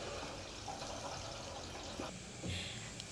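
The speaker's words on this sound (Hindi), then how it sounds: "अब हम इसमें पूरा पानी निकलने देंगे" Water drains out of a semi-automatic washing machine tub as a steady, close wash of running and gurgling liquid, with a few brief splashes and knocks and no talking.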